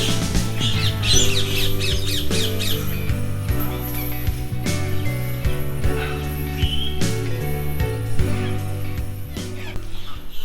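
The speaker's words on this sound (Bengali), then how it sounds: "এখানে অনেক পাখি আছে আরেকটা তো অলরেডি আমার কান ঝালাপালা করে ফেলতেছে" Loud, repeated squawking and shrill calls from many birds crowd a safari park aviary in Gazipur, overlapping continuously and close by, with background chatter from visitors.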